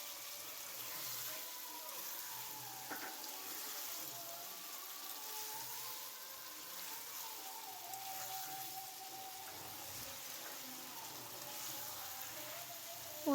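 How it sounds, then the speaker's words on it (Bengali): Spices frying in a pan for a paneer curry give a steady, soft hiss and crackle that runs on unbroken at low volume, with no one talking. "এই যে পনিরের তরকারি হচ্ছে, মশলাটা কষিয়ে নিচ্ছিলাম।"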